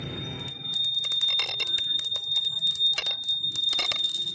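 A brass bell pendant for a goat or dog collar jingles in quick, irregular strokes, bright metallic rings overlapping at close range for about four seconds after a brief rustle at the start.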